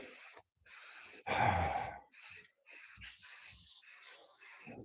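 Several short bursts of hissing spray from a spray paint can, separated by brief pauses, with one louder, longer blast near the start.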